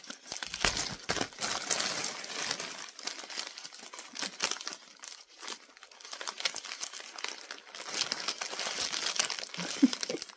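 Foil wrapper on a chocolate Easter egg being torn open and crinkled close up, with busy, irregular crackling and rustling bursts throughout, some louder crumples near the end.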